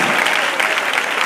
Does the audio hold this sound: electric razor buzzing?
no